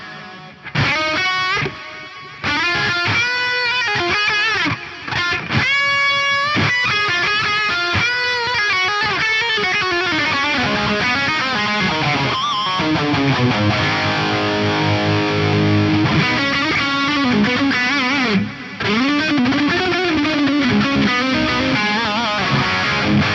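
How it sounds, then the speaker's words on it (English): A distorted lead guitar plays through a Fractal FM9 with multitap circular and pan delay on a Soldano-style 80s lead tone, so phrases trail off in repeating echoes. It is loud and continuous, with brief gaps between licks and no voices. "I've got an equal amount of circular and pan delay. I'm using the Solo 88 lead on here for some of that greasy 80s Soldano sound."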